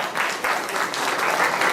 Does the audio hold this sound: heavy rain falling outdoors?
no